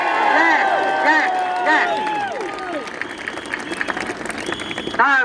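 A crowd at an outdoor rally in Trafalgar Square applauds and cheers loudly for healthcare professionals. The clapping is dense and sustained, with voices and whistles mixed in, then fades toward the end.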